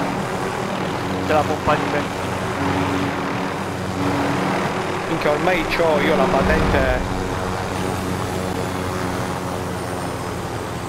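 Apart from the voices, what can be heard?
helicopter flying in video game Call of Duty Warzone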